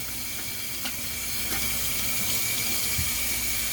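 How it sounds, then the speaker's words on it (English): Hands are washed under a running kitchen tap while meatloaf is being prepared. Water rushes in a steady, even hiss throughout, with a couple of faint knocks and no talking. "Once again, I wash my hands again."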